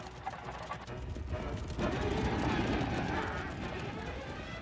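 Cavalry horses, including mounted lancers, gallop in wartime archive footage, a dense drumming of hooves with a few faint whinnies, swelling louder midway under a speaking voice.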